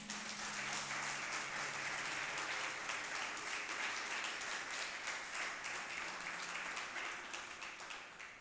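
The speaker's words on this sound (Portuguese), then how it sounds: "Você pode dar uma salva de palmas para Jesus?" A church congregation clapping together after a pastor's call, a continuous wash of applause from many people, fairly faint and steady throughout.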